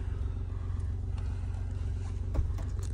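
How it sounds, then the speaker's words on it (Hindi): A car engine idles steadily and close with a low, even rumble as the car turns slowly on a residential street at night, and there is one brief thump near the end. "गाड़ी ज्यादा आवाज आ रही है गाड़ी की"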